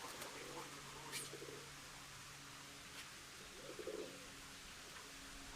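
Birmingham Roller pigeons, top rollers kept in a backyard, give a couple of soft low coos, faint against a steady hiss of outdoor background noise.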